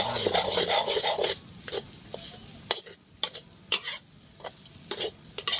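Rat meat dry-roasting in a pan with no oil, giving a soft background sizzle broken by sharp clinks and scrapes of stirring, loudest early on and then quieter with sporadic knocks.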